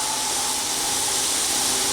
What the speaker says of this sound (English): I'm gonna close this lid, and I'm just gonna allow that steam